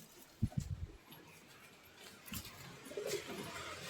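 Pet pigeons coo softly a few times, faint and fairly close, with quiet background rustle and hum between the calls.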